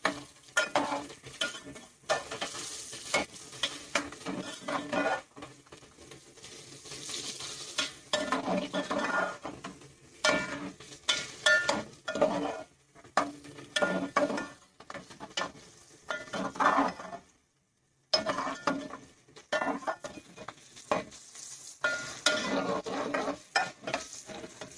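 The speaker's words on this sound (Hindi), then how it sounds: "हल्की से हम प्याज को ब्राउन करेंगे।" Onions fry in a pan for okra masala while a spoon stirs them in bursts, scraping and clinking against the metal over a low sizzle, with one short silent gap midway.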